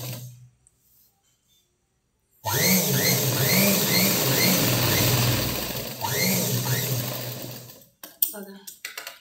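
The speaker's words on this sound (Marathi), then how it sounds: "बघा अशी एकदम अशी सरळ आपण शिलाई मारून घेतलेली आहे." After a quiet start, a sewing machine runs steadily for about five seconds while stitching a boat neck blouse, a close mechanical whir that then stops, followed by a few handling knocks and a voice.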